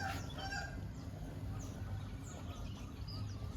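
Chickens in a village yard give soft clucks and calls over steady low background noise, with some faint higher cries that may be crowing, and nobody talking.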